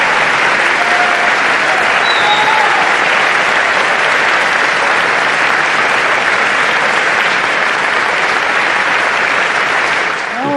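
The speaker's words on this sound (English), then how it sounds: "And we hear the applause, and Pope Leo XIV comes out onto the stage here in the Paul VI Hall." A large crowd in the Paul VI Hall applauds as Pope Leo XIV comes out onto the stage, a loud, continuous wall of clapping that holds steady throughout.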